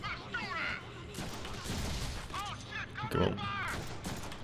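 Pistol shots in the Deadpool video game, several scattered bangs and impacts mixed with game sound effects and character voices, with someone speaking briefly over them.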